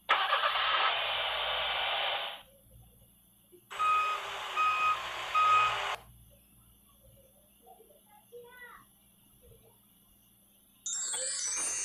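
An animated car's reversing beeps sound as two long, loud, steady beeping stretches separated by a gap, with faint incidental clicks and a short burst of sound near the end.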